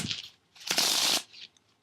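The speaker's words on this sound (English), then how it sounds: "And now let's try shuffling." A deck of Artifice playing cards with a rough finish is shuffled up close, giving a short riffle flutter, a pause, then a louder dense half-second riffle ending in a soft settle.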